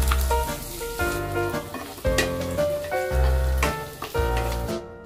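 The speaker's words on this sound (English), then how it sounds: "Once the oil is hot, add the chopped garlic, the spring onions and fry them." Chopped garlic and spring onions sizzle steadily in hot oil in a pan, with a constant crackle under layered background music.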